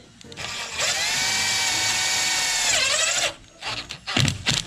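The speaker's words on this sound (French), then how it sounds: "Bon, je visse." Power screwdriver driving a screw into plasterboard during a house renovation, one loud sustained whine of about two and a half seconds rising then dropping in pitch, followed by a few short knocks and handling noises.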